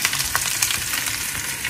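Curry leaf chicken fries in a pan with a busy, even sizzle and scattered crackles and pops, close and steady with no voices.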